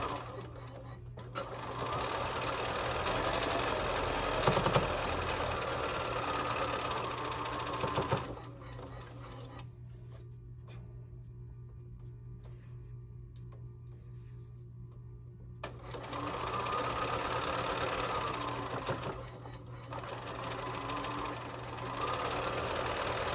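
A domestic sewing machine stitching quilt block seams runs in a steady, close whirring hum, stops for several seconds, then starts again and keeps sewing to the end.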